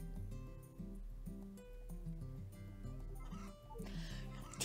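A chicken in Harvest Moon: A Wonderful Life clucks in short repeated bursts over game background music, quiet and steady throughout.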